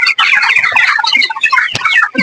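Chickens clucking on a small poultry farm of about 750 coloured birds, a close, busy chorus of overlapping clucks and squawks with no talking.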